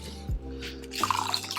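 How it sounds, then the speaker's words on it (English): Water poured into a chicken fat and salt mixture splashes and drips in a short burst of liquid sounds, close and moderately loud with no talking. "We're going to cool that off by adding a little bit of water."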